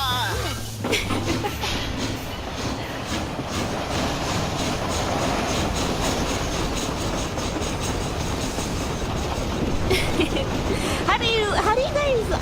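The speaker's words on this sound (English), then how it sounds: "Pull the brake lever to steal the train." A train running on rails in the Western game Red Dead Redemption rumbles steadily for the whole stretch at an even level, with people talking over it throughout.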